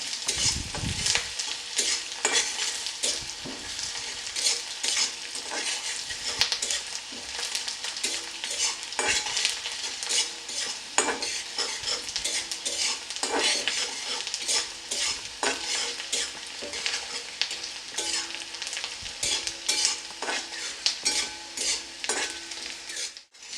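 Onions frying in a pan for an egg curry, stirred steadily with a utensil: a continuous close, bright sizzle with frequent scraping strokes and light clinks throughout, no talking.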